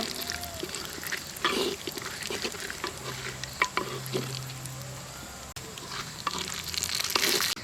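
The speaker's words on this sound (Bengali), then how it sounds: "ওই তেলে আমি বাদাম ভেজে নেব। বাদামটা আমি লাল লাল করে ভেজে নেব।" Peanuts frying in hot oil in a home kitchen, browning before soybean rice is cooked. A steady close sizzle and crackle runs throughout, broken by scrapes and light clinks of stirring.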